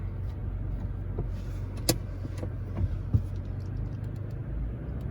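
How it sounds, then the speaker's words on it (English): A 2017 Toyota Land Cruiser 200 Series VX Premium SUV drives along with a steady low road and engine rumble inside the cabin, broken by a few faint clicks and taps. "Okay, let's drive the LC200."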